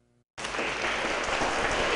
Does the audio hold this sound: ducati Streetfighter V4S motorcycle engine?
no